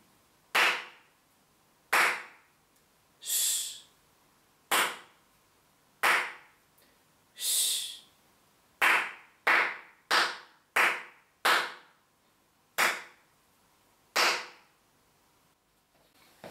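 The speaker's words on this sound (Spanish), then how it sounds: "Eso sería con las palmas" Hands clap a rhythm for solfège practice, about a dozen crisp, close claps with varying gaps, some long and some quick, each ringing briefly in a quiet room with no voices.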